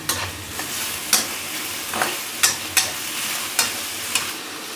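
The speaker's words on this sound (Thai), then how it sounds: "ผัดไปเรื่อย ๆ ค่ะ" Marinated pork stir-fried in about three tablespoons of oil over medium-low heat, a soft steady sizzle broken by repeated sharp scrapes of a spatula against the pan at irregular intervals, close and alone.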